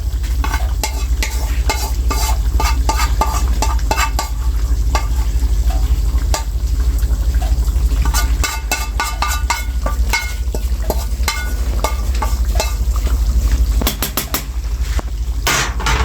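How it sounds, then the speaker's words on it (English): Curry chicken sizzles in a hot pot while a spoon spreads and stirs it, giving repeated scraping and clattering strokes over a constant loud fry, with no talk. "We're gonna spread it out nice and easy all the way around, and then we're gonna stir it."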